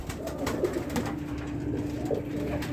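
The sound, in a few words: pigeons cooing in a loft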